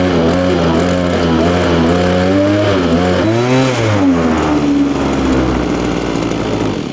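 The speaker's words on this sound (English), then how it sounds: "At the same time, I'm going to rev the engine." A small brush cutter engine revs up and down, its pitch climbing and dipping loudly close by before settling into a steady idle.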